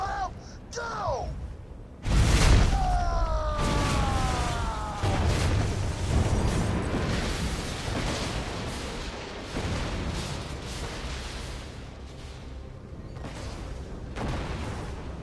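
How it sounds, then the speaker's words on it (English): Lunar bombardment in Borderlands 2 brings heavy, booming explosions in quick succession, with a sudden blast followed by rumbling impacts and chaotic game effects, while voices talk over the battle. "Locking onto drop barge. Commencing lunar bombardment."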